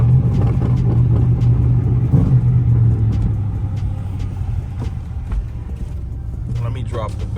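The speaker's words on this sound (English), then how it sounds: "So I can pick up more of the exhaust note." A 2013 Chrysler 300C's engine and exhaust note rumble steadily from inside the car during daytime driving, a loud low drone that eases slightly midway.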